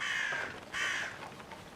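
Two harsh crow caws sound close together as an intruder alarm in the video game Atomfall, loud and clear with no speech.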